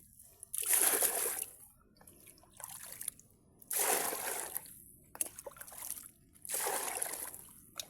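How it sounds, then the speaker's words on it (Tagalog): Natural water from a clean well in a forest pours and splashes in several separate surges, each a rushing spatter that rises and fades between quiet gaps, fairly faint and without speech. "Natural po na tubig yung lumalabas dyan."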